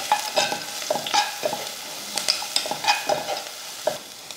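Ground rasam paste with asafoetida and turmeric being sautéed in a pan, a spoon scraping and stirring in steady repeated strokes over a soft sizzle, close and fairly clear, no voices.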